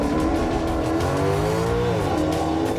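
A Maserati accelerates hard in a close race, its engine note rising steadily through the revs, dipping at a gear change and climbing again, loud and up close without any talking.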